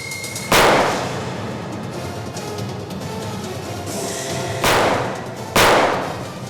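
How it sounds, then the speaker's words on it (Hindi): Three sharp gunshots ring out in a TV crime drama shootout near a garage-like storeroom, one early and two close together near the end, each a loud cracking blast over a steady rumbling background. "गोली संभाल के चलाना, कहीं सोनाली को गोली लग न जाए"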